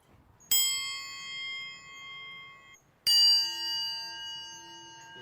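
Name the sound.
flicked metal key ringing like bells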